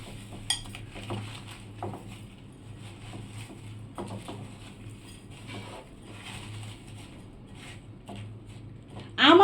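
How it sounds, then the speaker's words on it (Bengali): Raw mango pieces are stirred with sugar in a metal pot for pickle, making intermittent scraping clinks of a spoon against the pot, with a louder clatter at the very end. "এখানে আমি এখন আম আর চিনিটা ভালো করে মাখিয়ে নেব।"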